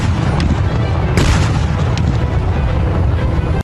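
A loud explosion rendered as a sustained, heavy roar of broadband noise that stays dense and booming throughout, with a couple of sharper bursts within it before it cuts off abruptly.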